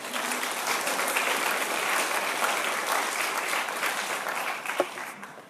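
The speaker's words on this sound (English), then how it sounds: "You can clap for that too" A lecture audience claps steadily, a sustained wash of moderately distant applause that holds evenly for several seconds before tapering at the end.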